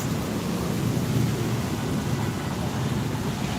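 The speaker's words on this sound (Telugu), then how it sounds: "ఇప్పుడిప్పుడే అయిపోవడం మొదలెట్టింది వర్షం" Heavy rain with thunder during a downpour, a constant loud roar of rainfall with a low rumbling undertone, steady and close with no distinct claps.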